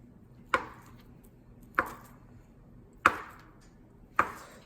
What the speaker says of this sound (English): I'm gonna cut in smaller cubes